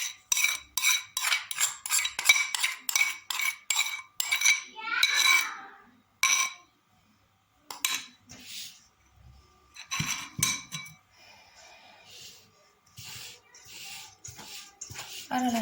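Batter for an apple pie being mixed in a bowl, rapid rhythmic clinks of a utensil against the bowl in quick bursts, close and fairly loud, with brief pauses and softer scraping later.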